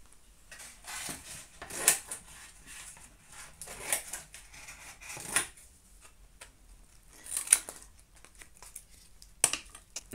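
Scissors cut through card for iris folding, making faint, intermittent snips and rustles close by, with quiet handling sounds between the cuts.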